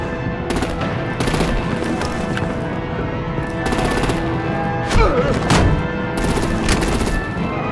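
Sustained bursts of machine-gun fire and gunshots from a Batman video game battle, dense, loud rattling volleys with occasional heavier thumps, continuous throughout over a busy backdrop.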